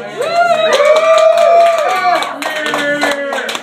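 A comedy club audience answers with clapping mixed with loud whoops and cheering voices. The sound swells in the middle and tapers off, fairly close and lively.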